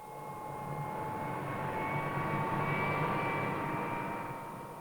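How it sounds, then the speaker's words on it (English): A helicopter climbs with a steady, droning engine and rotor whine that swells slightly and then eases, sounding enclosed and moderately loud throughout. "As the helicopter lurched upward, my weight increased"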